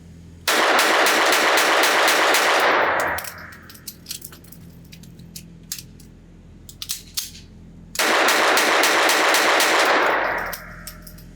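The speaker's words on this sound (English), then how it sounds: "Let's shoot this thing as fast as I can and see what it's like to change the magazine out fast." Rapid gunfire from a Beretta 21A Bobcat Inox .22 LR pocket pistol at a range: a loud, fast string of shots for about three seconds, scattered clicks and clatter during a magazine change, then another fast string of shots.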